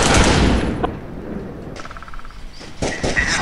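Gunfire in the mobile shooter Tacticool: a loud, dense burst of rapid shots opens, then sparse crackles and a second sharp flurry near the end, with no talk.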